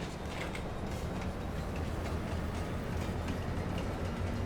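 A video game train rolls through a forest with a steady, dense rumble and faint rhythmic clatter, continuous and fairly close, with no voices.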